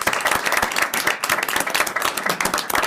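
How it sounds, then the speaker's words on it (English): A room of meeting attendees gives a round of applause, dense and steady clapping that holds at a lively level for the whole moment. "So let's give her another round of applause."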